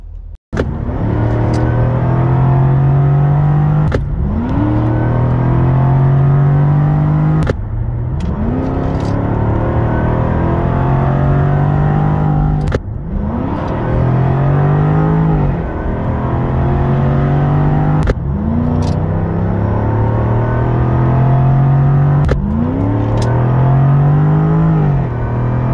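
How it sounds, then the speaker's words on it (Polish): The 5.0 V8 of a 2023 Jaguar F-Type R, paired with an 8-speed automatic, blips loudly on repeated downshifts, each one a sharp bark followed by a rising, then settling engine roar, about half a dozen times in steady succession. "Ten motor w połączeniu z 8-biegowym automatem, no to jest coś wspaniałego. Zobaczcie, jak szybko i brutalnie reaguje na redukcję."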